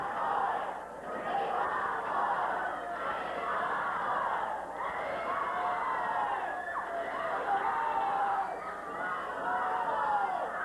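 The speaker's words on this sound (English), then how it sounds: "Not a sellout crowd tonight, but as you can tell, a noisy one" A rowdy crowd at a 1981 Portland professional wrestling show shouts and cheers in a continuous roar, with yells rising and falling throughout, alongside a commentator's voice.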